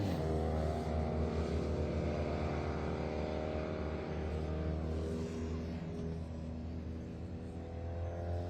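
Citroen 2CV race cars lapping Snetterton in a classic 24-hour endurance race, their small engines droning loud and steady with layered harmonic buzz as several cars run close together, no talk heard.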